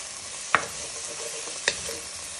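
Leeks and onion sweating in a pan with bacon for a bacon and lentil soup, giving a gentle steady sizzle broken by two quick utensil clicks.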